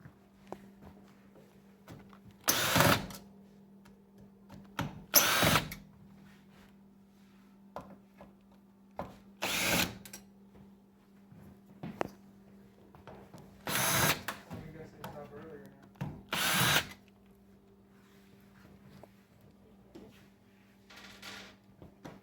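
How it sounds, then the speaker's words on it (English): A power drill backs screws out of a Whirlpool Duet washer in several short, loud whirring bursts spread across the clip, with clinks and handling noise in between and an electrical hum underneath. "now I'm gonna take the screws out of it"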